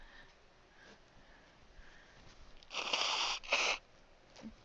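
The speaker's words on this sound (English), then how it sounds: "I have to blow my nose." Two short, loud bursts of breathy, broadband noise follow one another, like a nose being blown, after a stretch of quiet rustling.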